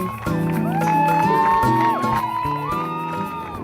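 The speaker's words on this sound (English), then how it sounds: "The crowds have indeed turned out and lined the fabulous harbour complex, welcoming the first team" Crowd lining the Punta del Este harbour complex cheers and whoops as the first race boats arrive, with horns or sirens blaring in sustained, overlapping tones over the steady roar.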